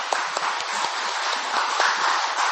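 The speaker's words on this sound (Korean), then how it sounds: "영광의 박수를 주님께 돌리십시다." Church congregation applauding after a worship song during a Sunday service, a steady, fairly loud wash of clapping from many hands that fills the whole moment.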